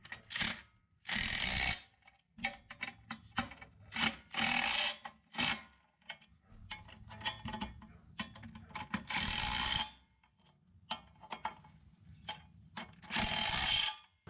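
A ratchet clicks in repeated bursts while bolting down a drilled metal plate for a welded frame, short rapid pawl rattles separated by pauses, close and fairly quiet.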